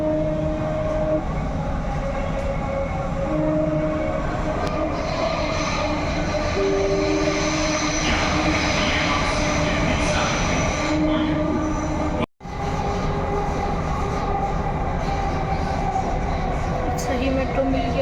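Interior of a moving Delhi Metro train, a steady loud rumble of wheels and carriage noise with faint tonal whines, a brief cut midway, and voices talking over it.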